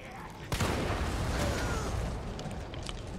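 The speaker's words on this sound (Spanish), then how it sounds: "Podría pegarle un tiro a eso y que revientase todo" A gunshot followed by a loud blast in the survival horror video game Resident Evil 3 Remake, the burst hitting sharply then rumbling on as a sustained, noisy roar that slowly fades.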